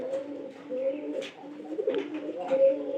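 An old domestic pigeon coos softly in repeated low, rolling phrases, fairly close but quiet, with faint background noise and no speech over it.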